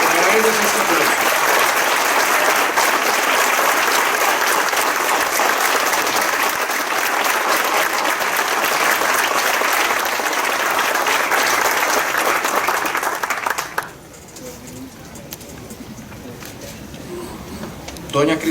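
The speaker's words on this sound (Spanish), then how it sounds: "Pero para ella es este aplauso." A large crowd applauds in honour of Christiana Figueres Olsen at a 2018 ceremony marking the 70th anniversary of the abolition of the army. The clapping is dense and sustained for about fourteen seconds, then cuts to a quieter room with voices.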